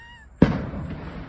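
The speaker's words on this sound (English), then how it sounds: "Fireworks this evening." A single firework bursts outdoors with a sharp loud boom that decays into a rumbling tail, preceded by a faint tone.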